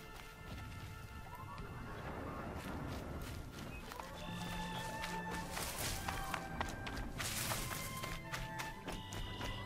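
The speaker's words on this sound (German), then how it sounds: "Da sind die Pferdchen." Horses walk with steady hoof clip-clops in Horizon Zero Dawn, set against a continuous game ambience of wind and nature with occasional tonal game sounds.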